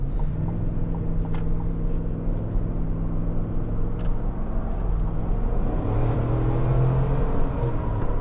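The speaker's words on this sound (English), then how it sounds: "this thing picks up speed quick. It actually moves pretty fast for being a giant SUV." A 2025 Chevrolet Tahoe Z71 SUV accelerating, heard from inside: a steady, loud engine drone and road rumble whose pitch rises as it picks up speed, with faint ticks over it.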